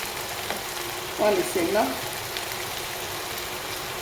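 A pot of meat pie filling seasoned with oregano and a seasoning cube is stirred, giving a soft, steady sizzling scrape under a brief spoken line, with a slightly louder swish in the middle.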